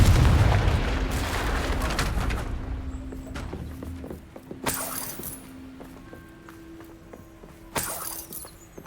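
Confringo explosive spell cast in the Hogwarts Legacy video game: a loud crackling blast up front, then two sharp explosive bursts follow later amid game effects and a low hum.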